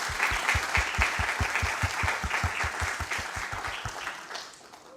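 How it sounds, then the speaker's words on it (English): An audience at the Rotaract Club of Grenada and Communal Co-operative Credit Union ceremony breaks into brisk, even applause, fairly close and loud, fading out near the end. "please join with me in giving the Rotaract Club of Grenada a lusty round of applause"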